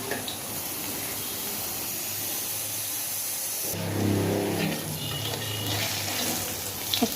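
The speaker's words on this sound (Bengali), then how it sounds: "খুব কড়া করে ভাজছি না" Palta leaf fritters frying in a pan of oil, a steady close sizzling hiss throughout that grows a little fuller partway through.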